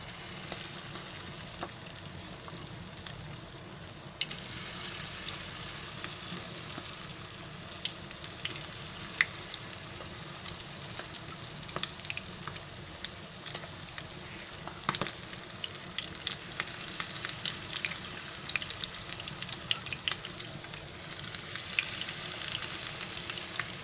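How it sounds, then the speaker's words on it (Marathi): Chicken pieces frying in hot oil on a gas stove, a long, even crackling sizzle that stays fairly quiet and steady, with occasional sharper pops and no voices. "आता त्याच्यामध्ये आहे ना एक पीस करून त्याच्यामध्ये सोडते"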